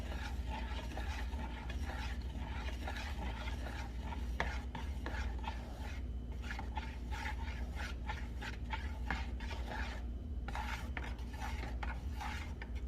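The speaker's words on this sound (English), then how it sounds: "when I'm stirring it, I'm just making sure it doesn't clump up at the bottom" A spoon scrapes and stirs a thick breakfast mixture in a pot, producing a steady run of soft, repeated rubbing and clicking strokes close by, with no talk.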